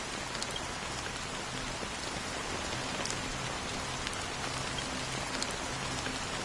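Steady rain pours down in Honkai Star Rail, a dense, even hiss of falling drops with a few brighter pattering splashes, loud and continuous throughout with no voices.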